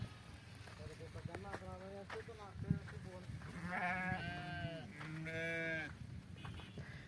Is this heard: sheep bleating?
yes